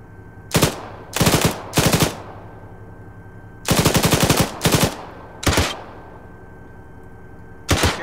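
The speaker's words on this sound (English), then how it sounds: "I'm gonna open fire just now then." Machine gun fire in the Arma 3 military game during a woodland operation: several loud, rapid bursts of automatic shots with short pauses between them and a final burst at the end, with no talking.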